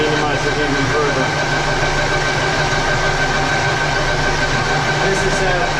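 A metal lathe taking a cutting pass with cutting oil at 355 RPM, a steady continuous mechanical hum and whir with a faint tonal whine, close and unbroken.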